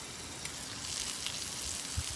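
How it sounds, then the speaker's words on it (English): Garlic sizzles in a Saladmaster electric skillet, a soft, steady crackling hiss with faint pops, fairly quiet and heard on its own. "So I can hear it sizzling."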